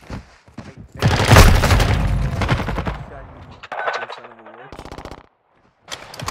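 A loud, sustained burst of automatic gunfire in a multiplayer shooter, followed by shorter rattling bursts and some individual shots, with players talking intermittently over it.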